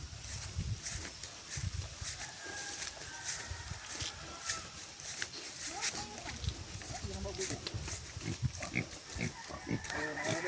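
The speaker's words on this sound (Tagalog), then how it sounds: "Baboy po." Pigs at feeding time on a farm grunt and squeal repeatedly, a busy cluster of animal noises close by, with people talking among them.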